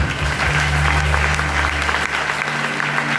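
A church congregation applauding and cheering together, loud and sustained throughout with a low hum from the sound system beneath.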